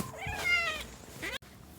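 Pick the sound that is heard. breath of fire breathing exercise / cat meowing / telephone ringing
cat meowing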